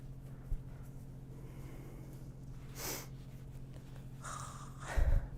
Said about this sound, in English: Sorry for the sniffles.